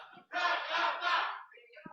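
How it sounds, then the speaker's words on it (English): The Jakarta All Stars pool team cheer and shout together inside a pool lounge venue, a short loud burst of group voices lasting about a second before fading. "Jakarta All Stars cheering in the background"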